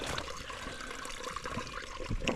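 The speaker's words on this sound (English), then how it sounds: "that opened up a little stream" Small mountain stream trickling at Bull Gap, a faint, continuous gentle burble of flowing water, close and steady.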